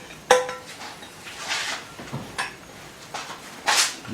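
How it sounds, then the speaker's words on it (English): A spoon scrapes a pot of strawberry panna cotta mixture with vanilla pods, making several loud, close metallic scrapes and clinks spread over a few seconds with quiet gaps between them. "This, scrape your bowl, your pot,"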